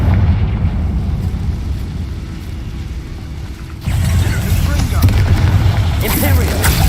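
Confringo spell blast in a Harry Potter video game, a sudden loud burst that jumps in at mid-clip and holds as a dense rumbling roar over a steady game background.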